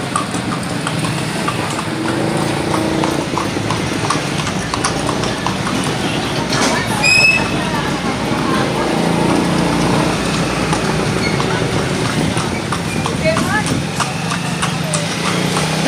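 Horse hooves clip-clopping steadily over an engine hum, with people's voices chatting excitedly throughout.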